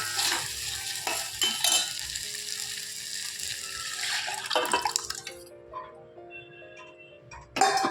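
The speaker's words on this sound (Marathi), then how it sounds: "थोडीशी हळद टाकूया आपण आणि डाळ ओतून घेऊया" Dal poured into a hot turmeric tempering for Maharashtrian phodniche varan sizzles loudly with scraping stirs and clicks, then quiets to a softer simmer before a final sharp burst; no one speaks.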